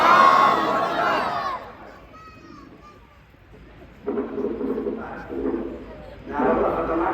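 At a religious gathering, a crowd answers the takbir slogan with loud, massed shouting. It surges at the start, falls to a quieter murmur, then rises again in two more waves of chanting.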